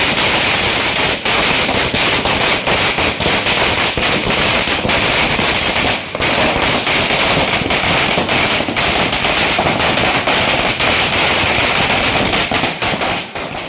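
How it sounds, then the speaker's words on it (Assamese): Long string of firecrackers bursting at a traditional festive gathering, a dense, loud, continuous rattle of rapid crackling pops close by, sustained without a break for over thirteen seconds. "এতিয়া আমি এই মাৰিম পুৰা ফটকা ফুটিব এতিয়া"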